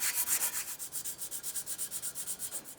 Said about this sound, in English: So the bulk of this sanding I want done before assembly